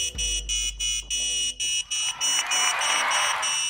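An Arduino buzzer plays a loud 8-bit tune, a series of short electronic beeps in a stepped rhythm with brief gaps, then a denser stretch toward the end.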